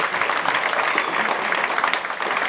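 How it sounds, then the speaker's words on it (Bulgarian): Applause for teachers at a music concert: a steady, dense clapping from a seated audience fills the hall at moderate volume, without a break across the short stretch. "Аплодисменти за всички преподаватели."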